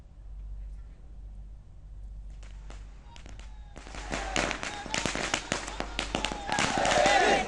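Firecrackers go off at a victory celebration in a rapid, crackling string of sharp bursts, starting sparse and building into a dense, loud barrage.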